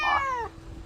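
A single cat meow, loud and close, with a falling harmonic pitch that fades out within half a second, heard alone without talk.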